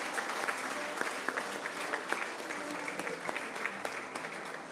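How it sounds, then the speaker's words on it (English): Audience at a Sikh high achievers awards ceremony giving sustained, even applause, a dense wash of many hands clapping at a moderate distance throughout. "May we please have a massive round of applause for everyone who has won"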